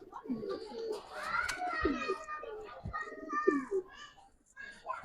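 Giribaz pigeons cooing in a loft, soft low coos repeating near and close among children's voices and chatter that run through much of the moment.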